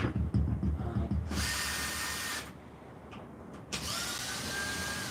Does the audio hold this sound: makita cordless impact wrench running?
yes